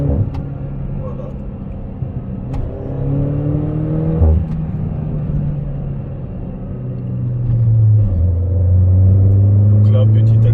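A Peugeot 208 GTi engine hums steadily, then rises in pitch as the car gently accelerates on the road, with a clear, loud drone building toward the end over cabin rumble.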